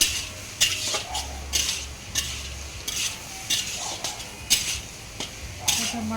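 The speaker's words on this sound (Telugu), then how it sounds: "పసుపు సాల్ట్ వేసి కొద్దిగా మంచిగా అట్లా కలుపుకొని కొద్దిగా మగ్గనివ్వాలి" A spoon scrapes and stirs curry with turmeric and salt in a sizzling pan, rhythmic clinking strokes repeating every second or so over a low frying hiss.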